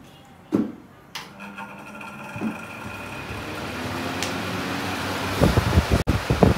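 A Tata Voltas Desert Air Cooler JetMax 54L clicks on, and a steady motor and fan hum builds and holds, with a few small knocks and rattles near the end.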